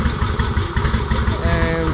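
A revived Harley-Davidson Ironhead Sportster motorcycle idles nearby with a loud, lumpy, uneven V-twin rumble. Its pulsing exhaust beat runs throughout, and someone talks over it.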